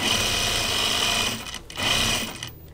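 A sewing machine stitching a vinyl pocket seam on a notions case, a fast steady whirring run that slows and briefly pauses before starting again, close and fairly loud.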